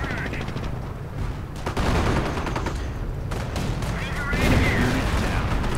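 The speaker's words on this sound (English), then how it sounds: "And there we got artillery going in on this rather clammed up position." In a World War II strategy game, artillery shells and machine-gun fire hit an entrenched position, with rapid bursts and booms layered over continuous battle noise while a commentator talks.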